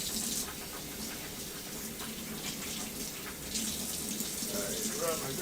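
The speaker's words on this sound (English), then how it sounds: "Now I'm going to wash my hands one last time." Running tap water splashes and hisses as hands are washed at a kitchen sink after handling raw shrimp, a fairly quiet, steady flow with brief stronger gushes.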